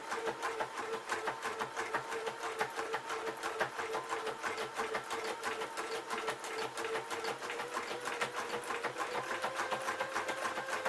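A sewing machine stitches a keyhole buttonhole on a jeans waistband, running steadily with a rapid, even mechanical chatter throughout at moderate level, with no talk.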